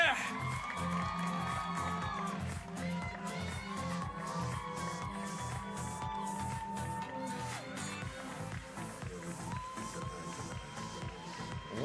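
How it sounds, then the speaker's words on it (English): Crowd cheering and applauding along the finish area of the 2025 Doha Marathon as a runner-up is honored, a steady wash of whoops and claps continuing under an announcer's amplified voice throughout. "Big round of applause goes to رابعة المصلح."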